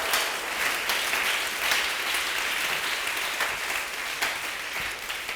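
A church congregation at a Sunday service applauds to acclaim Jesus, a dense, steady roar of clapping that fills the room for several seconds with a few sharper claps standing out.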